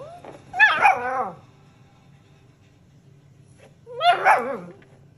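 An English setter gives two separate sharp barks with a whiny edge, spaced a few seconds apart, close by against a quiet background.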